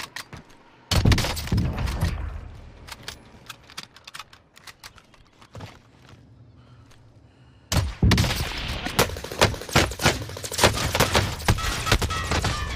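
Gunfire in the Call of Duty Warzone video game shoots through a wall: loud, sharp bursts of rapid shots, a quieter stretch of scattered single cracks, then another heavy volley near the end.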